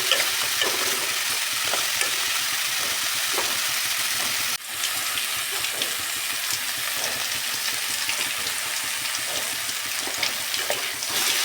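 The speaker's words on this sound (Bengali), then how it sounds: "মশলা কষানো হচ্ছে" A paste of coriander leaves, tomato, ginger and chilli sizzles loudly in oil and is stirred steadily in a pan for a fish curry, a dense, close frying hiss with scraping and one brief break midway.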